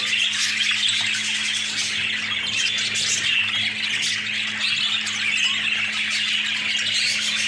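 Budgerigar chicks chirping and squawking in a dense, continuous chorus indoors, with a steady electrical hum underneath and no talking.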